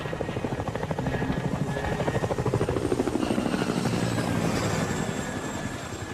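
A large Chinook helicopter flying low drones overhead with a steady, pulsing rotor beat, loud and close throughout, swelling slightly in the middle before easing off.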